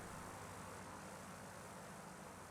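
A propeller plane runs steadily in the video game Kentucky Route Zero, a continuous, faint engine drone with no talking.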